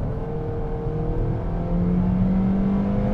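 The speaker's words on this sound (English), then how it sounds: "This is such a fun engine to ring out." A 2020 Toyota Corolla XSE engine revs steadily, a continuous droning growl whose pitch climbs slightly as it builds, loud and close with no talking.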